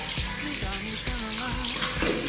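Tap water running steadily into a sink for face washing during a Thai herbal skincare routine, a continuous close splash with faint voice traces underneath.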